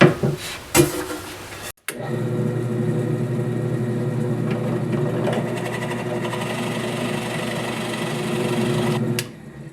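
A power drill boring a hole while building a folding kitchen stool, a brief whir at the start, a short pause, then a long steady motor drone of about eight seconds that stops abruptly.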